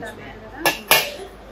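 Copper and brass cookware vessels knock together twice in quick succession, producing two sharp, close metallic clanks over a quiet room background.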